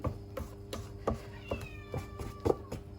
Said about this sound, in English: There goes the cat.